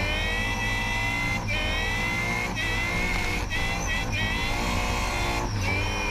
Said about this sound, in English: Gotta love the sound of a supercharger at work